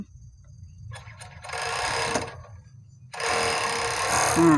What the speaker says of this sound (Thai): เย็บฝั่งนั้นเสร็จแล้วต่อด้วยไหล่ฝั่งนี้นะคะ